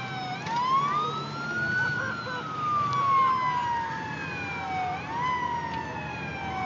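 Emergency vehicle siren near a burning RV, with a fire engine following behind: a loud, wailing tone that rises and falls in long sweeps over a low rumble of traffic and engines, with no talking.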